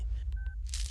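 A mobile phone number is dialed on a keypad in a Hindi film scene, giving a brief sequence of short electronic tones that stand out over a low background hum.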